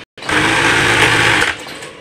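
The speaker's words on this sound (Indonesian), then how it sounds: "kita lanjut jahit" A sewing machine stitching the edge of a silk King Koil fabric bedcover, a loud, close, steady whirring run of over a second that then stops abruptly.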